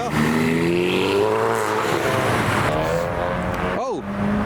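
A car does a burnout or drifts in a car park at a London car meet. The engine is loud and sustained, with rising revs and tyre noise nearby, and a voice talks over it.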